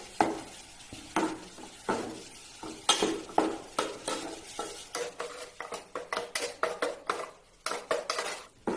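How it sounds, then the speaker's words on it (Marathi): Stone-ground spice paste is stirred into hot oil with reddish-browned onion, giving repeated scraping, clattering strokes of a utensil against the pan over a light sizzle, steady and close. "वाटण मी आता फोडणीमध्ये टाकून घेते."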